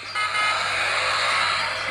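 A toy car's electronic sound plays after a button press, a steady buzzy beeping tone that fills the whole moment at close range with no talking over it.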